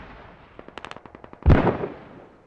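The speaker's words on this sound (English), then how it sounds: "There's full mortars on those habs right now on the north" Mortar fire in the video game Squad: a quick string of sharp, distant cracks followed by one heavy, booming blast that rumbles and fades.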